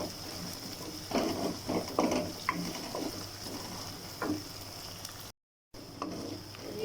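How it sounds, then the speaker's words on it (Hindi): Garlic, ginger and green chilli paste frying in a pan, a soft sizzle with intermittent stirring scrapes and pats, fairly quiet throughout with a brief dropout near the end. "लहसुन अदरक और हरी मिर्च का पेस्ट डाल के भी मैंने 1 से 2 मिनट जो है अच्छे से भून लिया है"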